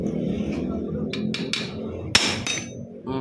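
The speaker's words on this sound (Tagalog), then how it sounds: "martilyo" A hammer strikes a magneto puller on an R180 dry-type engine, giving several sharp metallic clanks, with one louder blow standing out among lighter taps and workshop background.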